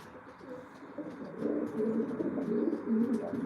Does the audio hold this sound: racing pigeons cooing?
yes